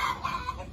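Farm chickens cluck softly in a rural Vietnamese countryside yard. The short, repeated clucks sit over steady, broad outdoor background noise.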